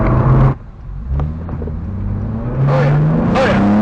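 A car driving and accelerating, captured through an AZDome M550 three-channel dash cam: a steady low engine drone that dips briefly and then rises and holds louder, with faint hints of talk underneath.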